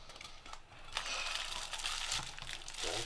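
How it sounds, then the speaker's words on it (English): A plastic bag crinkles and rustles steadily as it is pulled off a newly built electronics modding part, a close, continuous crackling at moderate volume with no talking. "Pro tip: remove the plastic bag before using this."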